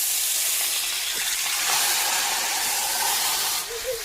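Dried red chillies dropped into hot mustard oil in a kadai, giving a loud, continuous close hiss and sizzle that eases near the end, no talking.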